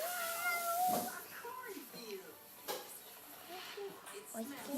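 A young child imitates a cat, giving drawn-out meows and squeaky mews amid soft adult speech prompting her, fairly quiet and close.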